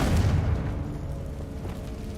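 A deep, rumbling Confringo spell explosion in the Hogwarts Legacy video game, with a loud opening boom that fades into a low rolling tail and no voices.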